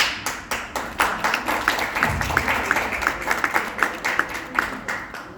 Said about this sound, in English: the loudest clap came from his brother